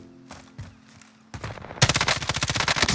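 M13 assault rifle fire in Call of Duty Warzone, a few scattered distant shots followed by a loud, rapid sustained burst of automatic gunfire up close.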